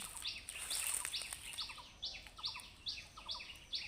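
A black drongo calls again and again in sharp, metallic notes at a quick, regular pace, with softer chirps and faint insect hum behind.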